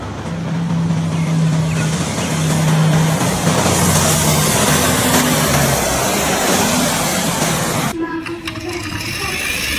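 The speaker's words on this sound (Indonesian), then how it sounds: "Mobil tangki." A tanker truck's engine rumbles steadily at close range, with low tonal drones in the first half and a sharp shift near the end as the sound changes character, sustained and loud throughout.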